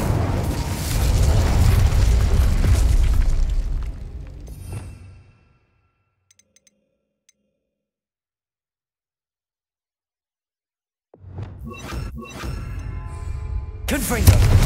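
Fiery Incendio spell cast in Hogwarts Legacy: a loud rushing, booming blast that fades into a few seconds of near silence, followed by more crackling bursts.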